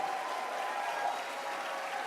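Crowd at a live convention show in a ballroom claps and cheers in a steady, dense wash of applause, even in loudness throughout with scattered whoops.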